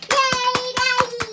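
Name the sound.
children and family clapping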